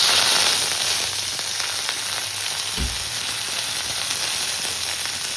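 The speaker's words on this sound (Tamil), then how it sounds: "கடுகு நல்லா பொரிஞ்சதும் கிள்ளி வச்சிருக்க காஞ்ச மிளகாவை போட்டுக்கலாம்" Dried red chillies and curry leaves crackle in hot oil with already-popped mustard seeds, a dense, steady sizzle close by with a soft thud partway through and no talk.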